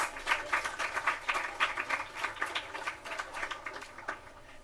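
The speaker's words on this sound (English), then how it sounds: "Give them a round of applause." An audience at a technical and vocational education fair applauds a school's agricultural achievement, moderately quiet clapping from a crowd with distinct individual claps pulsing unevenly throughout.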